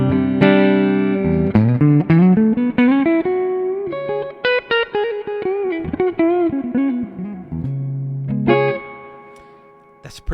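Clean electric guitar tone from a Victory V140 amp profile played through a Kemper, with sustained chords and melodic single-note lines ringing out loud and close, no voices over it.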